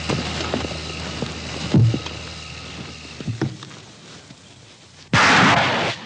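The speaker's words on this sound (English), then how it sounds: "This one is fitted with a Vinicum anchor that, once fired and embedded into the far side" A British Army Combat Engineer Tractor fires its anchor to haul itself up a steep riverbank, a loud sudden burst of rushing blast near the end that follows quieter churning water and engine noise, with a couple of dull thumps earlier.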